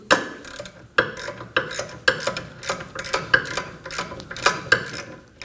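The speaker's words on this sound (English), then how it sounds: "for that we're gonna use a 12mm socket. Go ahead and break it loose." A ratchet with a 12mm socket breaking loose a rear brake caliper bracket bolt on a 2011-2016 Kia Optima, heard as a series of sharp, evenly spaced clicks close by with no talk.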